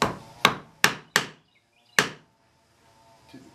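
Chisel cutting the wooden volute of a chair: four sharp, close thwacks in quick succession, then a fifth strike after a pause, each loud and crisp with short decay, no talk.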